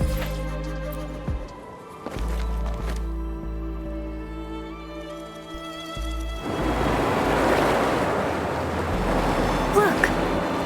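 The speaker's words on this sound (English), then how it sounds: "Look, the water is going down." Water recedes in the video game Wuthering Waves, first as a low rumbling swell and then as a louder broad rushing wash of draining water that sustains for several seconds without talk.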